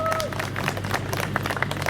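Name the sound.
audience clapping for Thailand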